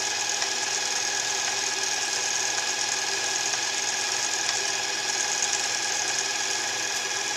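A sewing machine winding green thread onto a bobbin, a steady, even high-pitched mechanical whir that holds unchanged throughout, close and alone with no talking.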